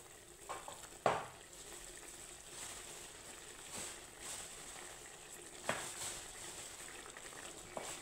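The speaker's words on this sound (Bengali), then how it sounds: "তো দেখো এখন আমি ঝোলের সাথে কোপ্তাটা 5 মিনিটের মতো ফুটিয়ে নেব।" Gravy simmering in a pot with fried koftas added, a faint steady bubbling and sizzle broken by a few soft stirring knocks.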